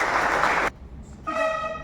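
Audience applause after a speaker is introduced at an environmental awareness event, a burst of dense clapping that stops abruptly, followed by a pause and a tonal, music-like sound.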